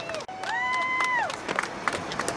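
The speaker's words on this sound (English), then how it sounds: "Everybody give Boots a big round of applause" A crowd at a bull riding event claps and cheers, with a whistle-like tone rising over the roar, a steady wash of applause and shouts from a large arena audience.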